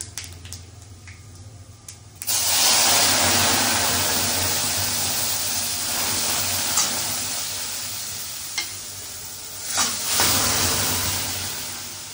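Dal hits a hot tempering of mustard seeds, panch phoron and dried red chilli with a sudden loud sizzle. A steady close frying hiss follows, with occasional stirring scrapes, and no talking.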